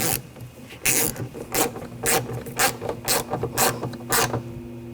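A screw is driven with a ratcheting tool while a rear window regulator is installed in a 2000-2006 BMW X5: steady, rhythmic rasping clicks repeating about twice per second, close and moderately loud.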